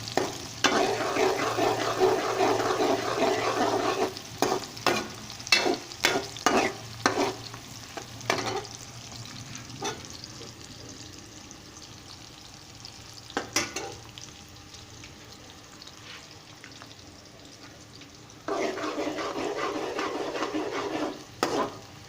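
Onions fry in a pan for a green chickpea and potato curry, a steady sizzle broken by repeated clacking stirs with a utensil, quieting midway before the frying hiss swells again.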